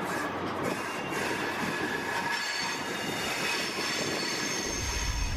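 HST train setting off on the Great Western Main Line, heard from on board as a steady loud rumble of wheels on rails with high squealing tones and a faint rhythmic clatter.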